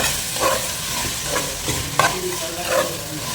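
Chopped tomatoes sautéing in a pan for avarakkai chicken, a soft sizzle broken by several distinct stirring scrapes of the spoon, with no talking.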